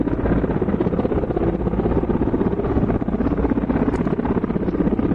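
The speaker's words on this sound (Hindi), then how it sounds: "हेलीकॉप्टर इस वक्त आप देख रहे हैं आपके टेलीविजन स्क्रीन पर।" A military attack helicopter flies close by in Ladakh, its dense rotor and engine roar loud and steady for the whole stretch.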